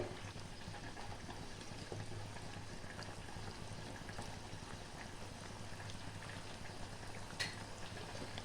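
Potatoes and mixed vegetables simmer in a covered pot, giving a soft, steady bubbling burble at an even, low level, with no talking.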